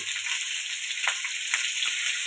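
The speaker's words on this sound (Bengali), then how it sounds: "এবার আলুগুলো ভেজে নেব" Potatoes fry in hot oil in a home kitchen, a steady, close sizzle with a few soft stirring scrapes breaking through, no talking.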